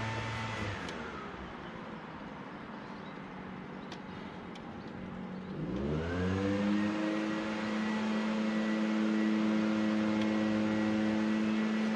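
An old engine, unstarted for about 15 years, turns over and catches halfway through, then settles into a steady droning idle, fairly close.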